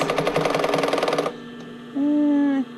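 A home sewing machine stitching fabric for a sports bra waistband runs in a fast, steady mechanical chatter, then stops abruptly, leaving quieter clicks and a brief tonal hum.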